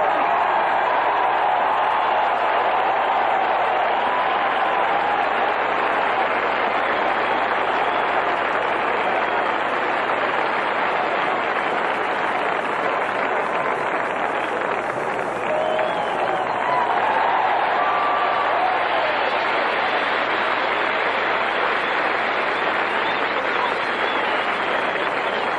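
A stadium crowd at Game 2 of the 1983 World Series, Phillies vs Orioles, applauding Brooks Robinson and Frank Robinson in a steady, dense roar of clapping and cheering that fills the whole stretch, with a voice faintly heard through it.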